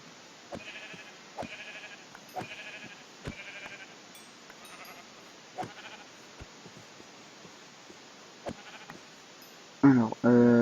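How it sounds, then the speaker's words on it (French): Sheep in the Minecraft video game bleat repeatedly in short, evenly spaced calls over a quiet background, followed by a louder burst of other game sound at the end. "il y a encore plein de moutons"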